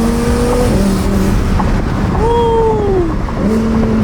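A 1000 hp twin-turbo Lamborghini drives hard, its engine loud and close, rising and falling through revs and gear shifts with rough, steady mechanical noise throughout.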